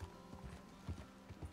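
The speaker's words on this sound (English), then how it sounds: "galloping drains a horse's stamina" A horse gallops in Red Dead Redemption 2, rhythmic hoofbeats in quick repeating clusters, fairly quiet and steady over a faint background hum.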